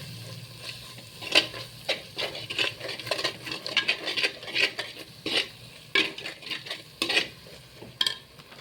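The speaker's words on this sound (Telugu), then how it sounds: "ఇది బాగా ఫ్రై అవ్వాలి, ఆయిల్లో బాగా మంచిగా ఫ్రై అవ్వాలన్నమాట." Masala spluttering and frying in oil in a clay pot for a fish curry with okra, with repeated scraping stirs and sharp crackles over a steady sizzle, close and alone.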